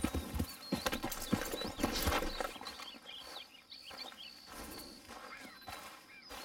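A horse's hooves clip-clop at a quiet distance in the Red Dead Redemption 2 game world, irregular beats strongest at first then easing off, with faint birdsong chirping over an outdoor ambience.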